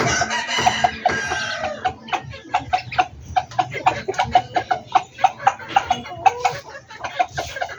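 Backyard chickens cluck in quick bursts close by while being fed bananas, with a rooster's crow near the start and a steady run of short clucks after.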